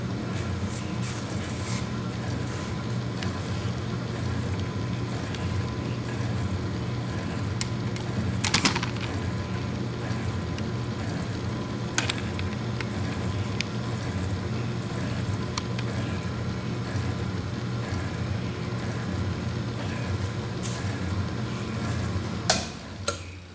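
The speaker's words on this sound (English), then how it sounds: "Let's crank it up. Remember, it's set for a" A 70-year-old South Bend metal shaper runs steadily on a 2-inch stroke, a continuous mechanical whir and rhythmic ticking with occasional sharper clanks, loud and close throughout.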